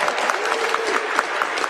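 An audience at a New York City mayoral press event on supportive housing claps in a steady patter, moderately loud and without pause.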